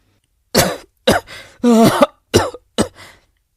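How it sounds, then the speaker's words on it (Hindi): A man gives a series of five short, light coughs close by. They come in an uneven rhythm with brief pauses between them. "तभी कबीर को फिर से हल्की सी खांसी आती है"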